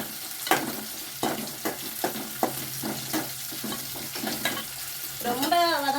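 Onions fry in a pan for vermicelli upma and are stirred by hand, giving close scraping strokes over a continuous sizzle, with a brief tonal sound near the end.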